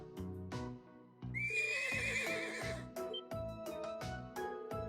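A horse in the video game Trails of Cold Steel gives a loud, wavering whinny over rhythmic clip-clop hoofbeats and game music, with the neigh standing out clearly in the middle.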